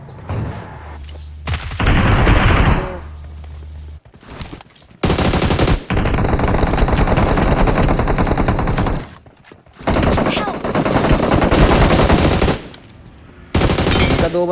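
Bursts of automatic gunfire from the battle royale game BGMI fight at a military base, loud rapid rattling volleys separated by brief pauses, several sustained strings of shots with booming hits.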